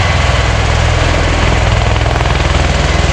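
An MV-22B Osprey tiltrotor aircraft at the Farnborough Airshow 2012 makes a loud, continuous, rapidly pulsing rotor thrum with a heavy low-end beat, close and steady from start to finish.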